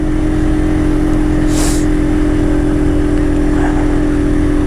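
A 50cc motorbike engine drones steadily and loudly throughout while riding, a constant low hum with wind rush and a brief whoosh midway.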